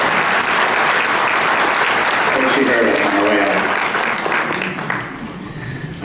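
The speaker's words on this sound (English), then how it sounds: "how about a quick round of applause?" At a town meeting, the audience gives a round of applause that is loud and steady, then fades toward the end while someone speaks briefly over the last of it.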